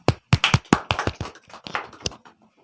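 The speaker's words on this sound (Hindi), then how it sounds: "गौरव के लिए बजाइए तालियां" A small studio audience at a student quiz show gives scattered, irregular claps for Gaurav: a few sharp, close hand claps that thin out and fade over a couple of seconds.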